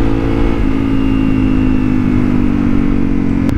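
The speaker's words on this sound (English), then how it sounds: "Every time you click down, the RPMs will rise." A motorcycle engine, ridden by a beginner, hums steadily and loudly close by, its pitch stepping upward slightly as the rider clicks down a gear, with a brief click near the end.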